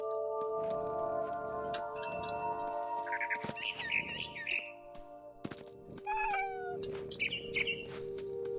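Small birds chirp and twitter in short bright bursts in the game What Remains of Edith Finch, set over a steady ambient hum with faint ticking, and no voices.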